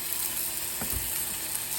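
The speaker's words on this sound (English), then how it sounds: "Sizzling away." Pot roast with chanterelle mushrooms and garlic sizzling in a pan: a loud, steady frying hiss with a brief burst of crackling partway through, and no talking.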